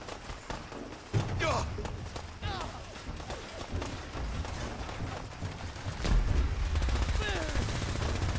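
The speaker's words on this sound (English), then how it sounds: "Nothing can stop a laser Gatling gun." A laser Gatling gun fires in Fallout 4, rapid bursts and thuds in a busy game battle, loud and close, with someone talking over the action.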